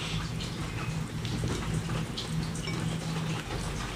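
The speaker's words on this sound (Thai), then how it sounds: "ฝนตกนะคะตอนนี้" Steady rain falling outdoors in a Thai home setting, a dense continuous patter of drops on surfaces with no pauses, fairly loud and even throughout, no voices.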